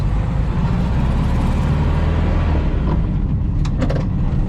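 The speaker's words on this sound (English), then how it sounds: "There is a terrible grinding noise." A 1964 VW Beetle in poor condition drives along with a constant loud low rumble and grinding road noise, the drone steady throughout with a few brief rattles near the end.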